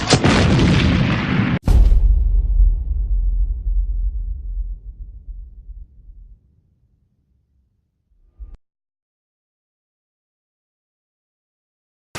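A bomb blast from the Hunger Games film Mockingjay Part 2 booms out loud and alone, a deep roar that breaks into a second heavy thump and then rumbles away over several seconds, followed by a brief faint knock.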